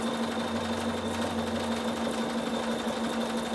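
Bernina embroidery sewing machine stippling over mylar with embroidery thread: a steady, even mechanical hum and rapid needle chatter, close and continuous.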